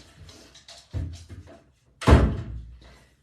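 A house door opens to let a dog out, giving a solid thunk and slam near the middle after some shuffling handling noises, with a fainter knock following.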